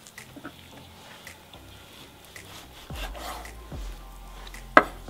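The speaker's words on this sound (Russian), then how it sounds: "Нарезаем на порционные кусочки." A knife cuts a hind leg of lamb into portions, giving a few quiet, dull chopping thuds in the second half and one sharper knock near the end, with no talk.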